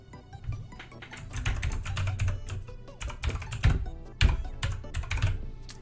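Rapid clattering keystrokes on a computer keyboard, typed close up in uneven bursts while renaming a folder, with no talking.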